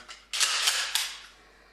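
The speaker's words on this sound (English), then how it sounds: "This pump gun." A pump-action shotgun handled in a played video, producing a quick metallic clack and a slide rasp. Two sharp mechanical snaps come within about a second, close and crisp, with no talk.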